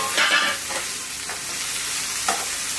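Onions, tomatoes and green chillies fry in a pan with a steady close sizzle, broken by a few brief stirring scrapes, no voices.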